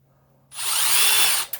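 A Milwaukee M12 Fuel second-generation brushless impact driver drives a self-tapping screw in one loud, close burst of roughly a second, then cuts off with a brief final rattle.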